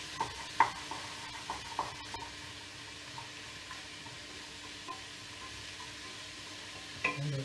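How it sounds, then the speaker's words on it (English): Garlic sizzles in a pan for cabbage soup while being stirred, a quiet steady frying hiss with scattered soft scrapes and taps of the spoon, fairly faint and close. "I'll add the garlic. Give it a mix around."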